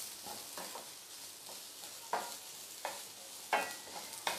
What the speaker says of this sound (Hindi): प्याज को अच्छे से भुनने दीजिए।